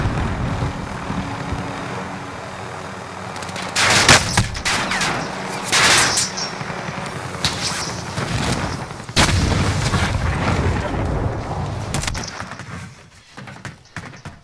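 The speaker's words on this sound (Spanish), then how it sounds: "Escucho los tiros" Bursts of gunfire crack out in a shooter video game, several loud irregular volleys and single shots with a sniper around, separated by quieter stretches of background noise.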